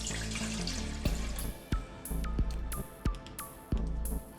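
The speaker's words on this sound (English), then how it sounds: "Start by adding the water." Water poured into a mixing bowl for a simple no-knead bread dough of flour, salt, yeast and water, giving a steady close splashing stream with a series of sharp knocks and clinks spaced through it.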